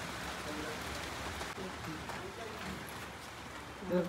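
During Diwali Lakshmi Puja in Nashik, rain falls in a steady, even patter on nearby surfaces, with faint voices underneath.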